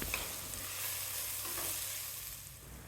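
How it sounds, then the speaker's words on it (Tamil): Onion, tomato and masala sautéing on a low flame for mutton kothukari keema curry. A continuous, close sizzle carries soft stirring scrapes throughout, and no one speaks. "லோ ஃப்ளேமில் வச்சுட்டு ஒரு 2 நிமிஷம் வரைக்கும் வதக்கலாம்."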